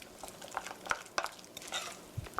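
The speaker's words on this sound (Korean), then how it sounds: "자꾸 이렇게 빙글빙글 이렇게 섞다 보면은 자연적으로 섞여져요" Churros batter is stirred slowly round and round with a spatula, giving soft, faint, irregular scrapes and small wet clicks, quiet and close with no talking.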